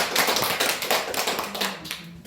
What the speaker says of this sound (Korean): 오늘 귀한 구원 강사님 박수로.